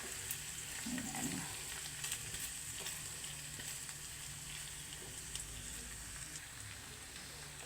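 Pork sautés in a pan for a home-style pork steak, giving a faint, continuous hissing sizzle with occasional soft stirring scrapes and no speech.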